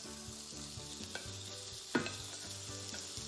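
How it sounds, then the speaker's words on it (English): Bacon fries in a cast iron pan, a steady sizzle with stirring scrapes and a sharp clatter near the middle, no voices present. "The first ingredient that we will use is the bacon, and it's going into the cast iron"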